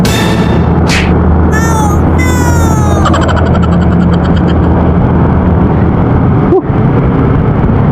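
Motorcycles ride along a busy city road in the Philippines, their engines a steady loud drone up close with whining passes and revving tones, under constant wind rush and a sharp whoosh near the end.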